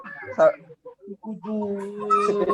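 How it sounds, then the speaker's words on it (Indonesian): A chicken clucks in short bursts, then gives a longer drawn-out call, nearby and fairly loud in an otherwise quiet room. "Suara ayam siapa itu?"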